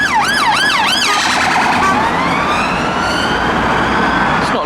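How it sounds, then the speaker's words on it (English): A police car siren wails loudly and close in a fast rising-and-falling yelp, then slides into a longer sweeping tone as it arrives at a Japanese modified-car meet, over steady engine and crowd rumble. "Oh no, we have a second police car arriving."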